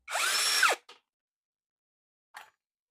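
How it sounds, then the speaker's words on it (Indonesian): A power screwdriver fitted with a Torx T10 bit whirs briefly to unscrew the battery casing of a Lucid LS-12 12-inch chainsaw, followed by small clicks and a faint scrape in otherwise quiet surroundings. "Kita akan bongkar, lihat dalamnya pakai sel apa. Bismillah. Seperti biasa ya, pakai obeng Torx T10."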